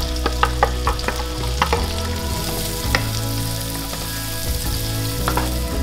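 Diced onion fries in bacon fat in a pan, a steady loud sizzle with several sharp spatters and stirring knocks near the start.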